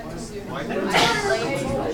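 A single sudden sneeze bursts out over a background of voices and room noise.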